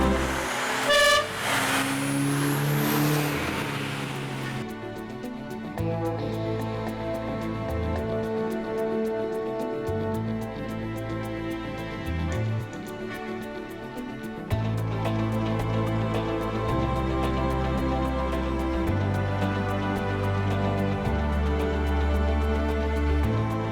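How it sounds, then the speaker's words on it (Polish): A BMW 2002 Turbo with a two-litre, 170-horsepower engine running smoothly, a steady droning tone that holds for a long stretch, close and fairly loud. "Auto ma bardzo przyjemny dźwięk, tu jest dwulitrowy silnik"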